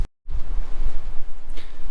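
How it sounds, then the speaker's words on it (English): Gusting wind buffets a microphone outdoors, starting after a brief silence and continuing as a low, rumbling, uneven roar. "So if it's windy out here, forgive me. Hopefully the mic will cut some of this out."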